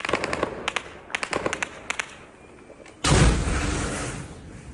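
A drone crashes into a shop wall and explodes: a sudden loud blast erupts and rumbles on, preceded by several sharp, distant cracks and pops; no voices.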